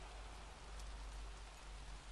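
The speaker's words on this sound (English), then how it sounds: "Oh no, it's just rainy weather." Steady rain falling in the video game Little Nightmares 2, a dense even hiss of drops on surfaces that holds constant and fairly soft throughout with no voices.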